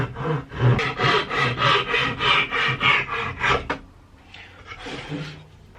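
Fret saw starting a cut in wood along a light groove while making a guitar, heard as about a dozen quick rhythmic rasping strokes up close, then a pause and a couple of softer scrapes.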